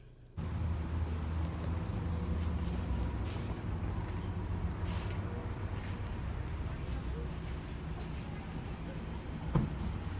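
Inside a moving car, a low, continuous road and engine rumble holds steady throughout at a moderate level, with one small thump near the end.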